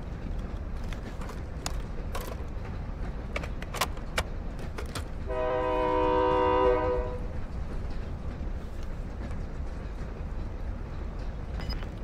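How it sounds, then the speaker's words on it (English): A train in the Call of Duty: Warzone video game sounds a steady, loud horn for about two seconds midway, over a constant rumbling in-game background with scattered sharp clicks. "This train is nice, it's like sightseeing."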